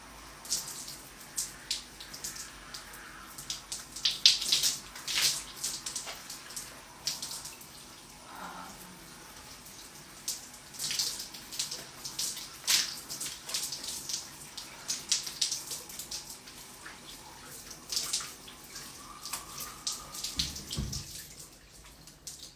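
Water runs from a tap onto wet hair, an uneven hiss and splatter with bursts as the stream is moved about, close and continuous.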